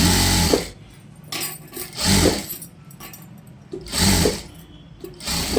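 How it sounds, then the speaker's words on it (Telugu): A sewing machine stitches piping along the waist of a computer-work blouse, running in several loud, close whirring bursts separated by short pauses. "చివరి దాకా ఇలా కుట్టుకుంటూ మనం పైపింగ్ థ్రెడ్ పైన దేనిపైన అయితే కుట్టామో"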